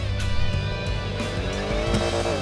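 Gasoline car engine in GTA V, heard as a steady in-game drone with engine harmonics and faint tire noise, continuous and fairly loud with no talk.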